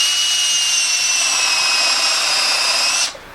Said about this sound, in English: I've got my Makita with the 5/8" bit,